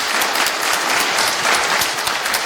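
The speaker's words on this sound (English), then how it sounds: "let's give her a round of applause" An audience at a community singing event claps for a performer in a dense, steady burst of applause that carries straight through the short moment.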